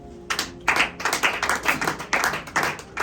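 A church congregation claps together in praise at a Sunday service, a steady, fairly fast rhythm of loud claps filling the room with no voices over it.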